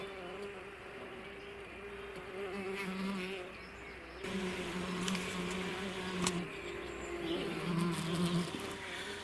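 Close buzzing of tree bumblebees in a hive, rising and falling in pitch, with several overlapping drones and brief pauses, continuous throughout with no voices.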